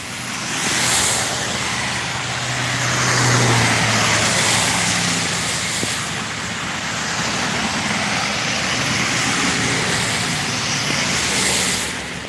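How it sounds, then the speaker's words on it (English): Heavy road traffic roars past outdoors, a loud and continuous broadband rush of cars and trucks that swells and eases slightly as vehicles pass, with no voices heard. "I'm being quiet because these cars are too loud, I'll have to scream over them."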